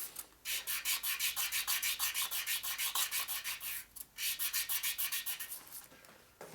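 Hand grinding on a 1947 Harley knucklehead 74ci motor part makes repeated rhythmic rasping strokes, brief pauses between bursts, close and alone.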